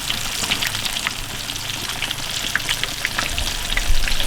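Chicken fried steak frying in very hot grease, a dense, crackling sizzle with scattered sharp pops, loud and close throughout.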